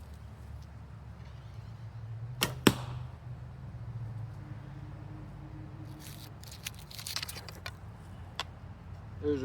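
An arrow loosed from an Osage orange gullwing bow strikes a target with a sharp double thwack, followed later by a few fainter rustles and scrapes.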